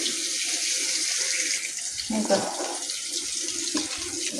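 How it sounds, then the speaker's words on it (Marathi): Chopped potatoes are rinsed under a running kitchen tap, making a steady close gush of water that swells briefly midway as the flow is disturbed, with faint clatter underneath. "बटाटा धुवून ते घेतलं."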